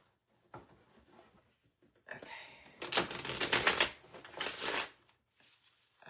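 A Thoth Tarot deck is shuffled close by, a few quick riffles and a longer burst of flicking and snapping, with brief quiet gaps between.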